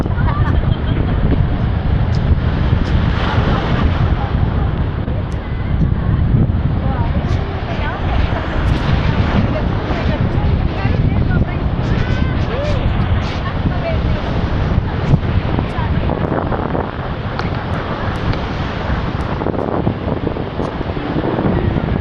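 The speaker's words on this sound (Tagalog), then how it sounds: "Ang lakas ng alon!" Strong surf pounds continuously at Boracay beach, a broad roaring wash of breaking waves mixed with heavy wind buffeting the microphone, loud and close throughout.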